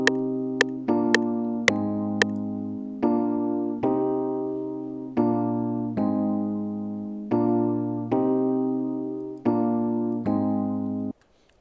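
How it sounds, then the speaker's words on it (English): A music loop at 112 BPM plays in FL Studio, with a few sharp percussive hits up front and then a steady series of sustained chord stabs repeating in rhythm, loud and clear, ending abruptly with no voices. "Okay, so that's how the loop sounds."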